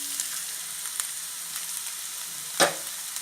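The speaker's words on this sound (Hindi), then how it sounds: "पैन में घी डालने के बाद अब हमने जो गाजर अच्छे से कद्दूकस करके रखी है, वो सारी गाजर हमें यहाँ पे डाल देनी है।" Grated carrots fry in desi ghee in a pan, giving a soft, even sizzle throughout with a few faint clicks and one brief sharper clatter.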